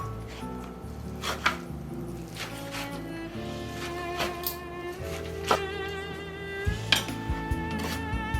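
Knife chopping cooked namul vegetables on a cutting board for a nine-vegetable Korean full-moon festival spread, with close, steady rhythmic chops and a few sharper knocks, no talking.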